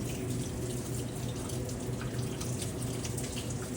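Tap water runs steadily into a sink while rinsing out excess water-soluble acrylic medium during intaglio aquatint work on copper, a continuous close, even splashing rush with no talk.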